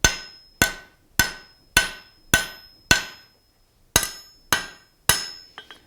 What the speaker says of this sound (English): the nail is actually going to be hammered in the heat